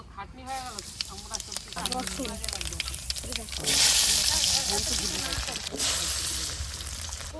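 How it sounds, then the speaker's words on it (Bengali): Speech at first, then a loud, steady hiss of bottle gourd leaves frying in mustard oil in a pan starts partway through and continues to the end. "এই লাউ পাতাটা ভাজা করব তেল দিচ্ছি সর্ষের তেল"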